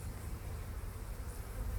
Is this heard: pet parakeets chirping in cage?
no